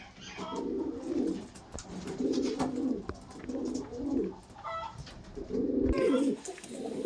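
Kaldam flying pigeons coo close by in a repeated series of low, throaty rolling calls, several phrases in a row, with a voice speaking faintly at times.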